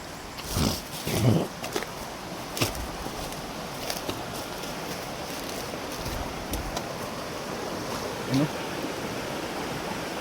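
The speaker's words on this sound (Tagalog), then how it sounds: "laking ilog nito" A large river flows steadily, a broad continuous wash of water with a few brief knocks and thumps over it and no talking.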